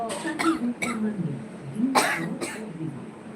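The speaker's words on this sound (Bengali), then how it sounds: "কাশি এসে" Several sharp coughs break out at uneven intervals, close by, mixed in with people talking.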